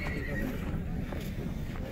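Young horses whinny at a busy Bishkek horse market, heard through a dense crowd murmur and nearby voices. The calls are short and stand above the steady background hubbub.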